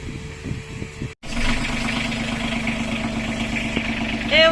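A sailboat's inboard engine fitted with a new starter cranks, stops briefly, then catches and settles into a steady, close mid-pitched idle with rhythmic chugging and a brief louder burst at the end.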